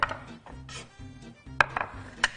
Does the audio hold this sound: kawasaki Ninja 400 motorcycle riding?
no